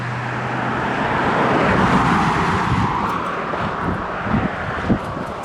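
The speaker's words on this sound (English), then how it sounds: "Wait for these cars to go by." Cars drive past a rail trail road crossing, a broad rushing swell of tyre and engine noise that builds and fades, close and fairly loud, with wind buffeting and a couple of short thumps near the end.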